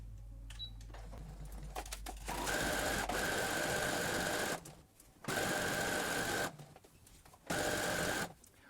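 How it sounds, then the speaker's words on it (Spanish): A sewing machine runs a zigzag overcasting stitch along a fabric edge, finishing seams around a button-up dress, in three loud steady bursts of a couple of seconds each separated by brief pauses, with no talking. "ahora que hagamos el sobrehilado, el zigzag o le pasen la overlock"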